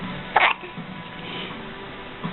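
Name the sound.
hiccups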